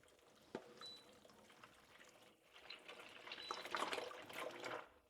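Milk pours steadily into a container, the flow building and thickening toward the end, with a faint clink near the start.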